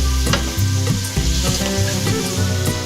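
Garlic and shrimp sizzling loudly in a hot pan, stirred with repeated scraping strokes over the continuous fry.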